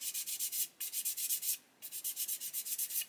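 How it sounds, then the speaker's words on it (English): A part from a Meng 1/35 Chieftain Mk10 plastic tank model kit is sanded in quick, rhythmic back-and-forth strokes with a dry rasp, close and clear, with one brief pause before the scrubbing resumes. "Just keep sanding it."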